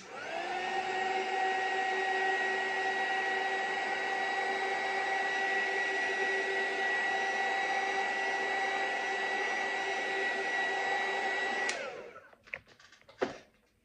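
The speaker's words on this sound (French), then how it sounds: "On va la sécher au heat gun." A heat gun runs close and loud with a steady harmonic whine for about twelve seconds while drying a wet mixed-media craft piece, then cuts off and winds down, leaving a few brief handling clatters.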